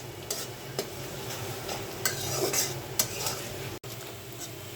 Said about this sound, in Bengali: পেঁয়াজটা তেলের উপর ভেজে নিচ্ছি।